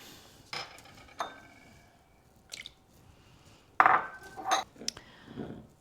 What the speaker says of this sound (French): Donc je viens casser mes œufs. Je fais un par un puisque ce sont des œufs de la ferme